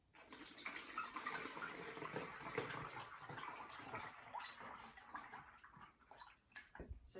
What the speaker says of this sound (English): I've got a sieve and I've got a funnel, and you just pour it in.